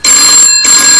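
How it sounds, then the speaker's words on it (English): A telephone rings loudly and close, a steady electronic trill that breaks off briefly before starting again. "that's the phone ring."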